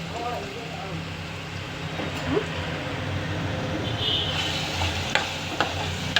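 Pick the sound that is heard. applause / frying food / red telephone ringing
frying food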